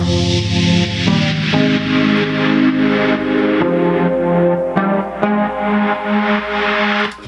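Layered disco synth chords with a wash of hissing white noise on top, the whole mix gently pumping in volume from sidechaining, loud and continuous without speech.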